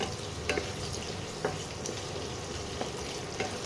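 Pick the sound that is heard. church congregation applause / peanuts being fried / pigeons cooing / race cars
peanuts being fried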